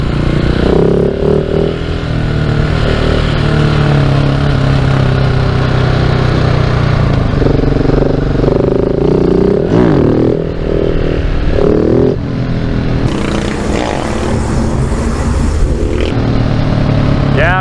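A KTM 690 supermoto engine runs loud and close while riding, with continuous buzzing and rising and falling revs through gear changes and strong wind rush. Someone talks over it at times.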